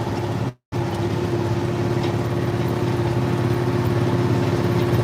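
International 4786 tractor running in a field, a steady loud diesel drone with a constant hum, heard from the operator's seat, broken by a brief dropout near the start.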